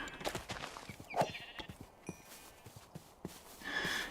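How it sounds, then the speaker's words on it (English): A sheep bleats once, briefly and at moderate distance, in the game Minecraft with the Scape and Run Calamity mod, amid other faint game noises and footstep-like clicks. "Sheep."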